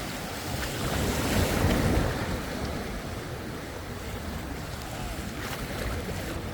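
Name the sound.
ocean waves and surf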